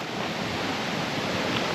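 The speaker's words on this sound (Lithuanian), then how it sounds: "Bet va, labai įdomu, šaltinis teka." Spring water flows steadily at Königssee in the Alps, a close, continuous rushing wash with no voices over it.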